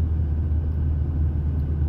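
A bitrem truck's engine rumbles heavily and steadily as the truck, running empty, labours through a curve. The low drone is loud, close and continuous, with no talk.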